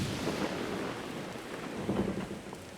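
Steady rain in the video game Zelda: Tears of the Kingdom, a continuous broadband hiss with low rumbling swells like distant thunder, moderately loud and with no talking.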